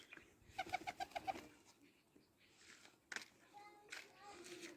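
A young pigeon chick makes soft, quiet cooing calls in a short run of repeated notes, with a few fainter bird sounds and some background voices around it.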